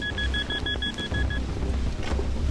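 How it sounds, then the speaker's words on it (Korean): A mine detector sweeps the ground at a war-remains excavation site on Arrowhead Ridge, South Korea. It gives a fast, even run of about ten sharp, high beeps, then falls silent over steady outdoor background noise. "곳곳에서 날카로운 경보음을 울리는 지뢰 탐지기."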